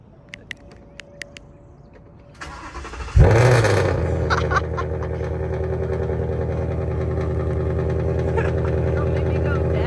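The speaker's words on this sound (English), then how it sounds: "Have you heard my car, what it sound like?" Brief talk and clicks, then a loud tuned S550 Ford Mustang engine fires up with a sharp roar and settles into a deep, rumbling idle with occasional revs.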